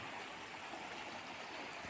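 Floodwater runs across a village road in Lunavada taluka of Mahisagar district, making a steady, even rushing and hissing wash that holds constant throughout, fairly faint, with no voices.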